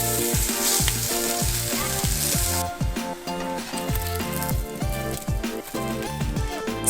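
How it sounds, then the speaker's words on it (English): Sliced Spam frying in a pan over medium heat gives a loud, steady sizzle with crackling pops throughout, close up and alone with no voices. "Add your sliced Spam to a pan heated over medium heat. Let it cook for 3 to 4 minutes on each side."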